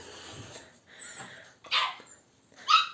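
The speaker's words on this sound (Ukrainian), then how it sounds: "там за дверима, мабуть, чути, як наші песики добираються на кухню" Muffled dogs yip and bark in short bursts, sounding slightly distant as if behind a closed door, with quiet snuffling between.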